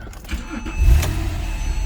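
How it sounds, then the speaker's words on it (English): A car engine cranks and catches near the open hood and trunk, a short start that settles into a steady low idle, close and fairly loud with no talking. "Open the trunk and the hood and start her up."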